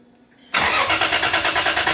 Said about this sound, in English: No, the starter's losing its life.